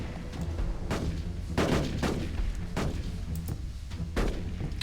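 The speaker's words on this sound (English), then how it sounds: "there's our tanks, hammering away at our opponent" Tanks firing during a battle in the Rise of Nations strategy game, heavy booming shots at irregular intervals over a steady rumble of combat, moderately loud.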